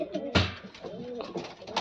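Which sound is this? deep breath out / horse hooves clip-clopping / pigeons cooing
pigeons cooing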